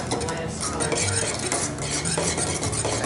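Wood stain being stirred to mix it before staining pallet boards, with quick, close scraping and sloshing strokes, steady and fairly loud, no talking.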